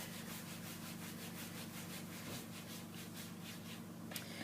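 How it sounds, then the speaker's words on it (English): Clear wax is rubbed by hand onto painted wood with a textured DIY paint finish, making a steady, close, even rasping swish in rhythmic back-and-forth strokes with no talking. "the reason I am clear waxing first is because I want to have control over that black wax to a certain extent"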